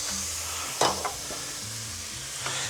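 Leeks frying in a pan as garlic goes in, a steady close sizzle with a few brief clatters and stirring knocks, no talking.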